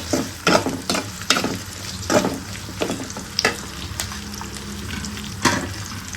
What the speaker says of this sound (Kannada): ಸೊ ಇದನ್ನು ಫ್ರೈ ಮಾಡ್ಕೊಳ್ಳೋಣ ಚೆನ್ನಾಗಿ